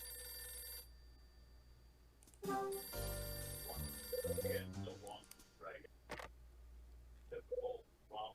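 A telephone rings in the detective video game Last Window: The Secret of Cape West, a tonal electronic ring pattern repeating in bursts over game music and sound effects.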